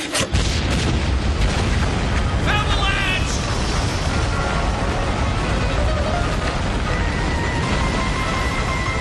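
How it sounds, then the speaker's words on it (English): Detonated charges go off in a loud, sustained explosive roar on unstable ice, a dense low rumble filling the whole stretch with brief crackling bursts on top. "Detonate the charges!"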